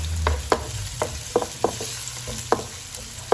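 Galangal and rice sauté in a pan for sotong balado, with a soft underlying sizzle punctuated by several distinct spatula taps and scrapes at irregular intervals, close and unaccompanied by speech.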